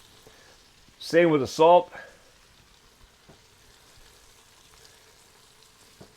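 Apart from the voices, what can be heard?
baguette bread frying in melted butter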